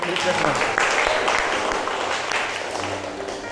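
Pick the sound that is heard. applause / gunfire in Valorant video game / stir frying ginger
applause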